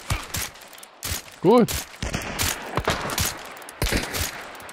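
Gunfire in the video game Hunt: Showdown, several sharp separate shots spread across the moment, one louder ringing report standing out, mixed with people talking over voice chat.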